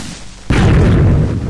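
Sudden loud boom of an explosion in Minecraft, a sharp onset followed by a sustained low rumbling blast that fills the rest of the moment.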